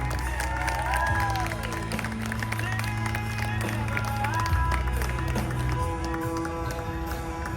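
An audience at a Lady Houdini magic show at the Kentucky State Fair claps and cheers, a continuous wash of applause over steady background music, with some crowd voices mixed in.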